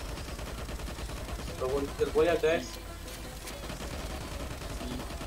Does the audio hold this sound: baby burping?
no